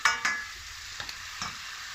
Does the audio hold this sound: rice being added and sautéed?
yes